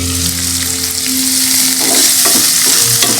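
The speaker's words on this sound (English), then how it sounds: "I'm going to close the lid to heat up the oil and cook the onions just for a minute." Onions frying in hot oil with chilies in a covered pan, sizzling steadily and close up for a few seconds, with faint stirring clinks near the end.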